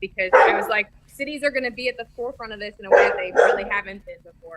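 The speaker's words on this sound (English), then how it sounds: "That's my dog barking in the background." A pet dog barks in the background of a home interview recording, its bursts sitting under steady continuous talk from a speaker.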